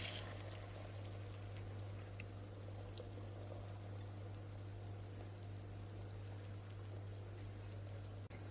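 Beaten eggs go into a hot pan of olive oil and a little butter, giving a soft, steady sizzle and crackle that holds evenly throughout under a low constant hum.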